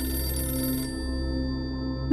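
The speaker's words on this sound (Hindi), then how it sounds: "फोन की आवाज सुनकर" A telephone rings steadily, a bright electronic ringtone close by and loud, sustained throughout with a brief change partway, alone with no voices.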